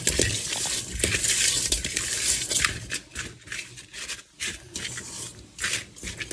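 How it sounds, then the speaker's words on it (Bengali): Fish being rubbed by hand with chili and salt, close wet squelching and gritty rubbing strokes in an irregular rhythm, fairly continuous and loud at first and then choppier, with no talking. "মরিচ, লবণ একটু মেখে নেব"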